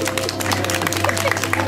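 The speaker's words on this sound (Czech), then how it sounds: "To musíme zatleskat." Applause fills a hall at a St. Nicholas gift-giving event in Jesenice, a dense, steady patter of many hands clapping over a constant low hum.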